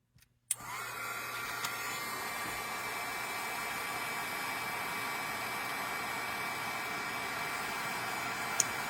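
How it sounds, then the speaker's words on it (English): A handheld heat embossing tool blows steadily on embossing powder during papercrafting, a continuous loud whooshing roar that starts abruptly after a brief click and holds even for several seconds. "And then we will hit it with our heat tool."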